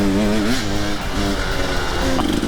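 An enduro dirt bike engine revving on a trail: a loud, close buzzing motor climbing and dropping in pitch through quick throttle blips, rough and continuous across the whole clip.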